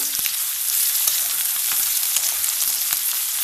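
Onions frying slowly in a pan on low gas for samosa filling, a steady close sizzle with faint scattered clicks of stirring throughout.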